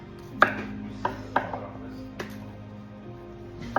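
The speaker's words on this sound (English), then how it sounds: "we're chopping the jalapenos up" Knife chopping jalapeño peppers on a cutting board: five or six sharp, irregular chops close by, with quiet pauses between them.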